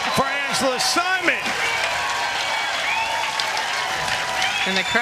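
Spectators applaud and cheer at a women's senior pro doubles match at the US Open Pickleball Championships, steady clapping filling the clip while a voice talks over it.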